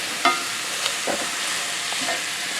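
Enchilada filling sizzles in a hot pan while a utensil stirs and scrapes through it, with soft clicks over a steady frying hiss and no talk.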